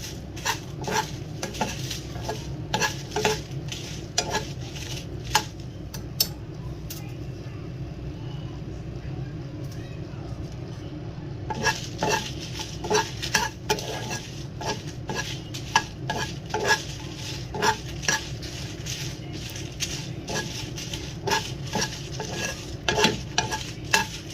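Red chilies roast in oil in a pan while black pepper chicken is being made. A utensil scrapes and clinks against the pan again and again, close and busy, over a constant low sizzle.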